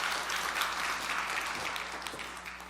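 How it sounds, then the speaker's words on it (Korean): An audience at a Korean entrepreneurship lecture concert applauds a speaker, a soft, even wash of many hands clapping heard from a distance and tapering slightly toward the end. "이렇게 좋은 강연해 주신 황 대표님한테 다시 한번 박수 보내주시기 바랍니다."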